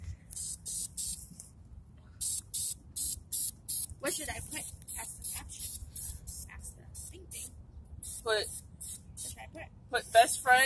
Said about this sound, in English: Best friend is spray painting, and I'm scared.